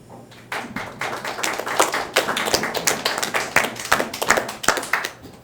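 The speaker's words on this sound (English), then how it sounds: "Want me to give him a round of applause?" Audience at a comedy show in Saskatoon clapping for a comedian's dad on his 70th birthday, a dense round of applause that builds after a quiet start and carries on steadily without talk.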